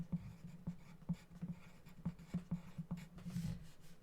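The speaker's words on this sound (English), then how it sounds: "you're going to write your name" Pencil on paper writing out a name, quiet close-up scratching strokes in a quick irregular rhythm of short taps and scrapes, with no one talking.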